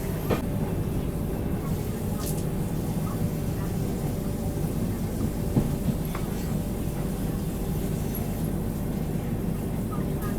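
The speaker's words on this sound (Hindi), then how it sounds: "अपनी ट्रेन हो गई एकदम स्लो" A steady low rumble of the New Delhi–Mumbai Tejas Rajdhani Express rolling slowly along, continuous and unhurried, with occasional faint clanks over the drone.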